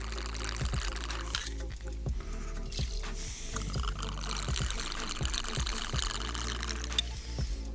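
Cask strength whiskey pours steadily into a vessel for a Blue Blazer cocktail, a soft continuous trickle with small clinks and handling knocks, close and fairly quiet.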